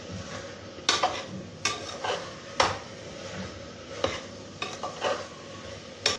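Brinjal pieces stirred in a frying pan for vaangi bath, a steady low sizzle broken by sharp scrapes and clinks of a spatula against the pan every second or so, close up with no talking.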